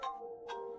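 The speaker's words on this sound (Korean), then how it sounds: "이때 내 휴대폰 벨소리가 크게 울렸다." A mobile phone ringtone plays a short chiming electronic melody. It sounds once, clear and moderately quiet, with no voices over it.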